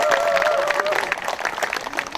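Applause from an audience at a 2025 May 18 memorial ceremony, a dense steady patter of many hands with a sustained tone and some voices mixed in, filling the whole moment.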